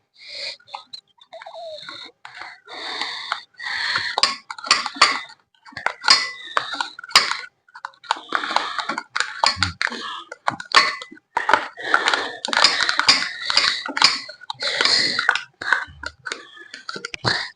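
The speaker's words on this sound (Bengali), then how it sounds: "আরেকটা দই দিতেছি।" Metal spoons and utensils clink and tap against dishes while extra yogurt is added for a sweet yogurt lassi, a steady run of close, sharp knocks and scrapes with brief pauses between them.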